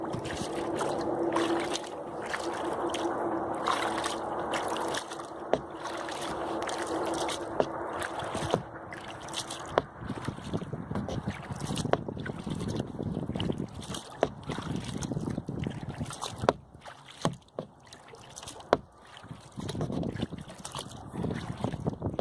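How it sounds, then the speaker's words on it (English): A kayak is paddled hard across windy water, with steady paddle splashes and water slapping and bumping against the hull, plus some wind buffeting the microphone and no talking. "That bumping against the hull, it's because I'm really having to paddle pretty hard."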